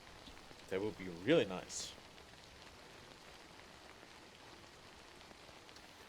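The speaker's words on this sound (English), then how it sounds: "Could rain please stop?" Steady rain in the Death Stranding video game, an even hiss that carries throughout, with someone briefly speaking over it early on.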